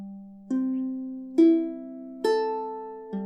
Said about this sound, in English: you can use fingerpicking to play individual strings like this